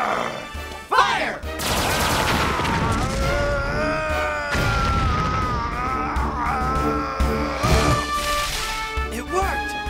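Power Rangers in Space heroes fire their weapons together at a monster in a TV action scene: a rapid burst of blasts and crashes over dramatic music, with shouting voices mixed in throughout.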